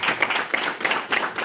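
Audience applause at a broadband mapping panel event in Kenya, dense steady clapping from a crowd, fairly loud and close throughout the short stretch with no voices.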